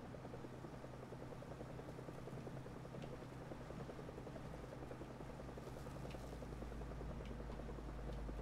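Helicopters flying in the War Thunder video game give a continuous, dense rotor chop with a low engine drone, steady and loud throughout, with no speech.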